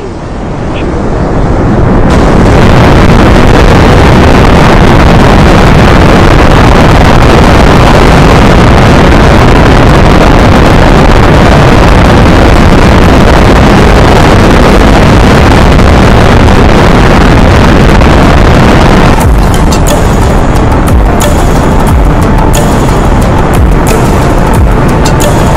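Loud, continuous rocket engine roar from an SLS Orion launch in the Spaceflight Simulator game, a dense broadband rumble that builds within the first two seconds and holds steady, with brief crackling bursts near the end.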